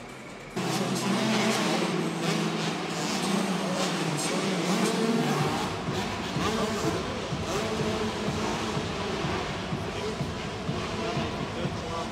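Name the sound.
125cc motocross bikes during timed practice in a stadium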